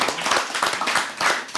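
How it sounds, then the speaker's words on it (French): Applause from a studio audience on a French geek quiz show, a burst of clapping hands that stays steady and fairly loud throughout the short stretch with no talk over it. "Je pense que ça mérite quelques applaudissements."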